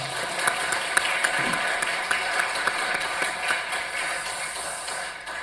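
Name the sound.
congregation clapping hands in church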